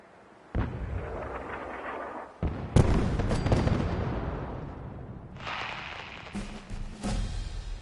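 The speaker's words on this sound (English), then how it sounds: "Preparing to fire for effect." Artillery strike in Fallout 4: several heavy booming blasts land in succession, each followed by a long rumbling decay and crackle, loud and near, with no speech.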